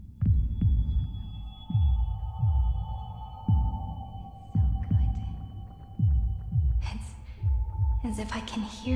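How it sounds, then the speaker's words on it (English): Heartbeat sound effect in a video game, deep thumping double beats repeating at a steady rhythm, loud and close under a sustained hum, with a voice speaking over it and a brief shimmering effect near the end. "as if I can hear the sound of my heart beating"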